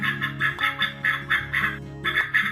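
Ducks swimming on a pond with colourful fish quack in quick, nasal bursts, about eight calls in rhythmic clusters with brief gaps, close and clear with no talk.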